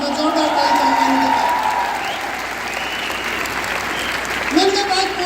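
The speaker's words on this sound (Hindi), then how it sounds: "जोरदार ताली चाहिए" Loud, sustained applause from a large seminar crowd in a stadium hall, steady clapping throughout with a voice briefly heard over it.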